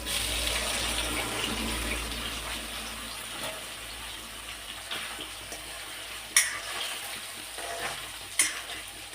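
Homemade paneer frying in oil with chili powder for a tomato gravy, a soft, steady sizzle with a couple of sharp clinks from a utensil and no talking.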